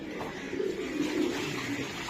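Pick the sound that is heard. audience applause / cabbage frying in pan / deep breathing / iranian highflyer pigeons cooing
iranian highflyer pigeons cooing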